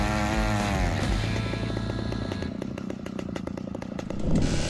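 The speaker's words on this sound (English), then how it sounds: "The sturdy and lightweight design of this chainsaw helps users feel comfortable when used for long periods of time" A large chainsaw cuts through a big tree trunk about 71.5 cm across, a loud continuous engine whine that bogs and shifts pitch as the chain bites into the wood, close up.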